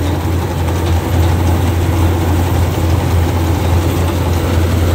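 Kubota DC-95 combine harvester, fitted with a widened 105 header and spring-loaded feeder, runs its engine at a steady loud low drone throughout, outdoors in the evening, with no pauses or speech.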